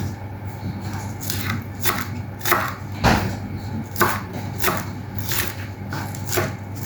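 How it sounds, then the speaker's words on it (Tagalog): A knife chops green onion on a board in steady, crisp knocks, roughly one or two per second, close and clear over a faint background hum. "Ang sunod naman nating hiwain ngayon ay ang ating green onion"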